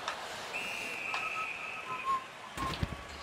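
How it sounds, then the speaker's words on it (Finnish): Someone whistles a few short, thin tonal notes in a quiet room, faint and intermittent, with a couple of soft knocks near the end. "Kuka se siellä viheltelee?"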